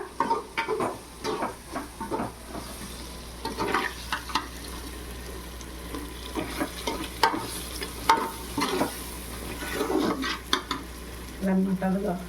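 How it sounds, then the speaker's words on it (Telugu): Vegetables fry in oil in a pan, a close sizzle broken by repeated stirring scrapes and clinks of a utensil, with occasional soft talk in the background. "ఇప్పుడు ఇది కూడా నూనెలో ఏగిపోతుంది అనమాట బాగా"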